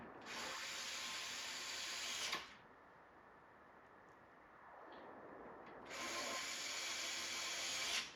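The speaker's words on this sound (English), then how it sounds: "So I'm going to take those screws and put them back in now to hold that." Screws are driven back into an arcade cabinet during restoration with a power driver, two long buzzing runs separated by quieter scraping and rubbing, close and fairly faint.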